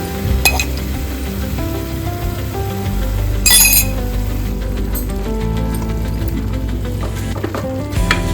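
Crushed green chilli and garlic hit a hot pan and sizzle loudly and continuously, with sharp metallic clinks of a utensil stirring against the pan at a few moments.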